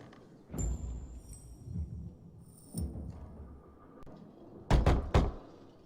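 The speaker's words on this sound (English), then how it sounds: "Knock on some doors." Knocking on doors in the game Dying Light 2: several separate knocks spread across the clip, a pair early, a couple in the middle and a sharp double rap near the end, with quiet room ambience between.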